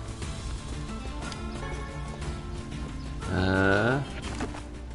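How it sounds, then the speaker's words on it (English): Goat bleating in the video game Nier Replicant, a single drawn-out wavering bleat about a second long rising clearly over game music and ambience. "Hey, goat."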